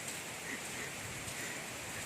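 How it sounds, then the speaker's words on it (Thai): Heavy rain falls steadily near Khao Chamao waterfall, a dense, even hiss of water with no break or talk, fairly faint and continuous. "แต่ว่าฝนตกห้ำเสียเหลือเกิน"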